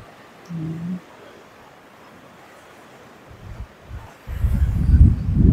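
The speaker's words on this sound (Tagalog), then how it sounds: "Grabe, lakas ng hangin, no?" Strong wind buffets the microphone during a ride near a park by the water, quiet at first and then swelling into heavy low rumbling gusts over the last seconds.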